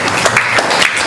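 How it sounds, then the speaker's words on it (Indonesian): A classroom of students gives a quick burst of applause for a classmate, close and lively clapping lasting about a second. "tepuk tangan buat Yuda."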